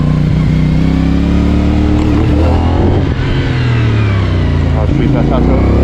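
A CFmoto 450NK motorcycle engine drones loud and close while riding, its pitch rising and falling slightly with throttle under steady wind rush.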